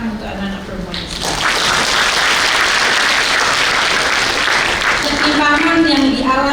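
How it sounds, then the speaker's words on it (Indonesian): A speaker's voice gives way to an audience clapping loudly and continuously at a youth sustainable-development talk, the applause sustained for several seconds before speech returns over it. "Jadi saya mau tepuk tangan untuk anak-anak perempuan di sini."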